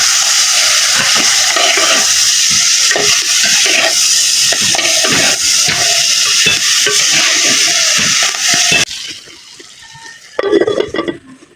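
Malabar spinach greens and Malabar spinach fruit frying in a pan with cumin powder, a loud steady sizzle with repeated scraping stirs and clinks of a utensil, cutting off abruptly near the end before a brief clatter, no talk.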